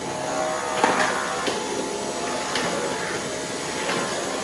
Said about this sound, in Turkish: Fatih Selim süpürgemizle evimizi temizliyor çocuklar.